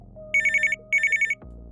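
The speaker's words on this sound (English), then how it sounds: "we could search for a phone ringing effect" A telephone ringing effect laid into a podcast mix: two bursts of rapid electronic trilling rings, each about half a second long, heard clearly and alone over a low steady hum, followed by a soft thud.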